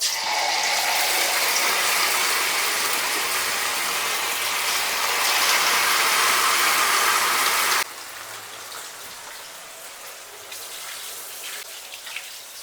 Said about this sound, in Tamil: ஒவ்வொரு பீஸ் சிக்கனை எடுத்து நம்ம அந்த எண்ணெய்க்குள்ள போட்டுக்கலாம்.